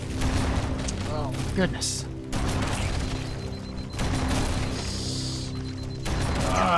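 Halo CE combat with rapid shots, crashes and exploding Flood creatures under a droning game score, someone talking briefly over the action.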